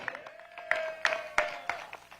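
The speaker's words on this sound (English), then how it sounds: "Round of applause for Lieutenant Governor Stavros Anthony." A handful of scattered, faint claps ring out from an audience greeting Lieutenant Governor Stavros Anthony at the U.S. Capitol Christmas Tree arrival in Las Vegas, spaced irregularly over a quiet background.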